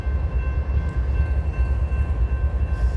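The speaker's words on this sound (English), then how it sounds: "This is exciting train content here for all the people who love the trains." A train rumbles past nearby, with loud, continuous low-end rolling noise and steady tonal hum from the rail cars, heard alone without speech.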